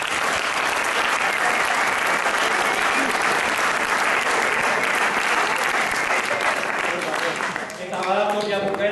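Loud, steady applause from an audience at a rugby club anniversary gathering fills the clip, dense clapping throughout that thins toward the end as a voice begins to speak.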